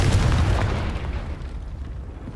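A Confringo blasting spell bursts in the video game Hogwarts Legacy, opening with a loud, low booming blast that rumbles and slowly fades over a couple of seconds, with no voices.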